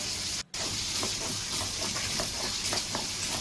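Tangra fish frying in hot oil gives a steady broadband sizzle with small crackles and pops throughout, close and fairly loud, broken by a brief cut near the start.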